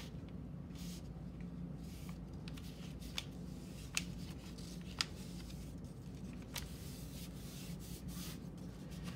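Paper being folded and creased into a Miura fold: quiet close rustling and rubbing with a few sharp crisp creasing snaps scattered throughout.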